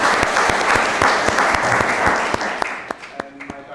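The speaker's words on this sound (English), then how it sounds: "a round of applause for all" Audience applause closing a conference panel on new technologies and regulation in Japan and the EU, a dense clapping crowd that swells then thins out toward the end, with a few scattered individual claps lingering.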